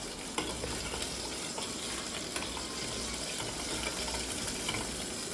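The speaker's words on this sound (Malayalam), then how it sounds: "സ്വല്പം പച്ചമുളക് നമുക്ക് ഇതിലേക്ക് ആഡ് ചെയ്യാം" Green chillies frying in a pan, a steady dense sizzle with faint stirring scrapes throughout, fairly quiet and continuous with no talk.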